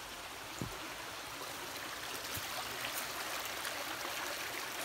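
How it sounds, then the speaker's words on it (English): A creek on the Hike Inn Trail flows steadily with a constant rushing, babbling wash of water, close by and continuous, with no voices. "Here is the creek I was hearing."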